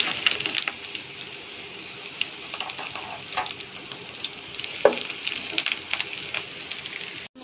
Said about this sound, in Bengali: এই পর্যায়ে আমি পটলগুলো সব দিয়ে দেবো।